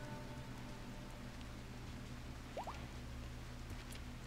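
Soft, steady rain falls in RimWorld, a faint even hiss continuing throughout with no other prominent sounds.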